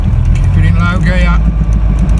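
A campervan engine in low gear climbing a road on the Isle of Skye, a loud steady low rumble close up, with a voice speaking over it.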